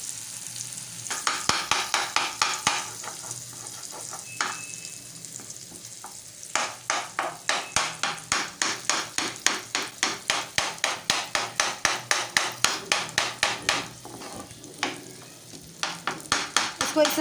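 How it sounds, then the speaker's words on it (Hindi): A metal spoon repeatedly strikes and mashes brain with tomatoes in a pan for a brain fry, producing quick rhythmic knocks and scrapes over a soft sizzle, close and steady, with a few pauses between bursts. "इसको इस तरह से मिक्स करना है वीवर्स कि ये सारा मगज़ जो है टमाटरों के साथ अच्छी तरह से मिक्स हो जाए"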